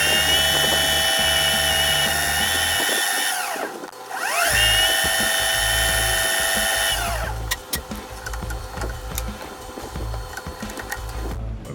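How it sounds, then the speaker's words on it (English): A metal intake bung for a Chevy 454 intake spins at high speed while sandpaper is pressed against it, giving a loud, steady machine whine. The whine briefly drops and restarts, then turns rougher and more uneven. "I'm gonna take some sandpaper and turn it up high speed and just sand all this off"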